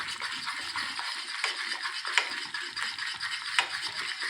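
Flour being stirred into a clam chowder roux, a soft steady scraping and swishing of a utensil in the pot with a few faint clinks, close and quiet, without speech.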